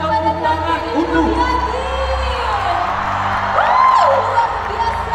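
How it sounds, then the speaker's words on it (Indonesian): University students in an Indonesian campus hall raise a loud, continuous crowd roar with whoops and cheering, a dense wall of voices sustained throughout and swelling near the end. "Boleh teman-teman kita berikan tepuk tangan untuk"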